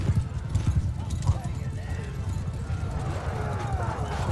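A horse gallops in the Mount and Blade II Bannerlord battle game, with a steady clip-clop of hooves, a faint whinny and a low rumble throughout while someone talks over it.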